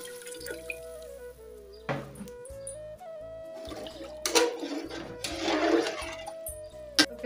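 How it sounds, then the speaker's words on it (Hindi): Water splashes and gurgles as five litres are poured into a large pot for cooking six kilograms of rice, with bursts of running liquid over a steady background tone. "अब मैं इसमें ऐड कर रही हूँ पानी"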